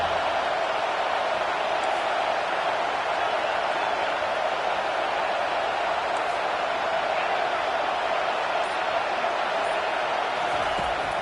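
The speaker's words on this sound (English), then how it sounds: "The roar of the crowd trying to fuel this defense to keep them pinned in their own end." Steady crowd roar filling a college football video game stadium as the defense pins a team from Florida deep in its own end, a continuous broad wash at even loudness with no clear peaks.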